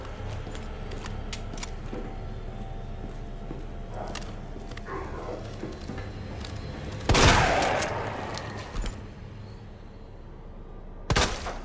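Shotgun blasts in the Resident Evil 2 Remake video game, with one loud booming shot and a later sharper one over a low ambient game background, no talking.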